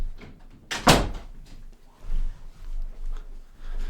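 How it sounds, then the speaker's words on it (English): A single close thud of a door being shut indoors, sharp and fairly loud, followed by faint low room rumble and soft handling noise. "Hold on, I have to close the door."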